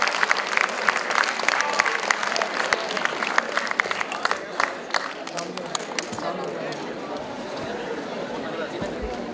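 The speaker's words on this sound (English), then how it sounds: "Let's give a big round of applause and welcome Mr." Audience applause welcoming a speaker at a conference, a dense steady clatter of many hands with some chatter mixed in, lasting throughout at a fairly even level.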